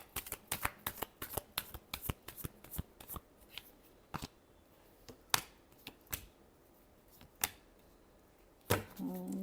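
Tarot cards are shuffled by hand, giving a quick run of crisp riffling snaps and taps at an irregular rhythm, close and quiet.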